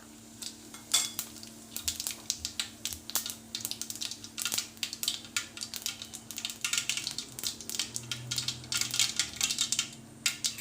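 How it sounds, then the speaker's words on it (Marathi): Mustard seeds followed by cumin crackling in hot oil in a pan for a cabbage and pea sabzi, a dense run of sharp popping and spattering that keeps going unevenly, close and fairly loud. "सर्वप्रथम आपण मोहरी टाकूया, त्यानंतर जिरं"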